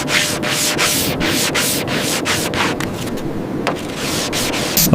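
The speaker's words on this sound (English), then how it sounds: "Evening the surface with sanding block." Rhythmic back-and-forth strokes of a sanding block on a 1970 Dodge Charger R/T body panel, loud and close, repeating steadily with a brief pause partway through.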